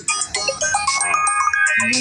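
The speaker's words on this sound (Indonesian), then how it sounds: "Oh, ada telepon." A mobile phone ringtone plays a quick, chirpy electronic melody of short bright notes, fairly close, with a faint voice briefly audible near the end.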